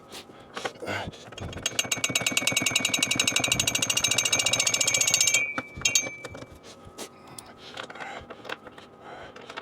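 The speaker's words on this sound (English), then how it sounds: "You want to use a regular drill so you can turn the pressure down, so you don't strip the plastic." A power drill backing bolts out of a Can-Am Ryker three-wheeler, a buzzing motor whine running for a few seconds then stopping, surrounded by close metallic clicks and handling noises.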